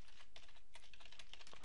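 Rapid typing on a computer keyboard while entering information into a SharePoint Online newsfeed, a close, steady patter of key presses with no talk.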